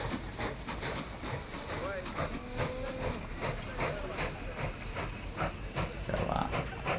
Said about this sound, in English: Come on out, little train.